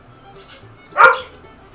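A dog waking up in a home during a morning coffee livestream gives a single short bark, fairly loud against quiet room background, with no talking over it.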